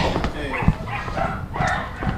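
Dogs bark and yip in a narrow Brooklyn pet shop on Flatbush Avenue lined with about two dozen dog cages, the barking nearby and fairly loud over a busy background, with a voice talking now and then.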